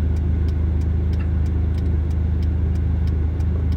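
Steady low engine drone from a 2004 Dodge SRT-4 while driving, heard from inside the car as a constant mid-pitched hum with road noise and no talk.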